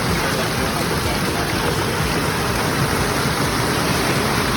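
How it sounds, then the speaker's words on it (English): A large pondless waterfall sends down a steady, loud rush of water, an unbroken roaring wash heard up close with no breaks. "that big drop turns into a lot more here and down here, that faster rushing water sound."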